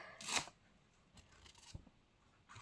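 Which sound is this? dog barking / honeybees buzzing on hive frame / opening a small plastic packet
opening a small plastic packet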